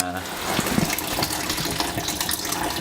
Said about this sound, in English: I have the radiator draining, and I just found a little bucket in the garage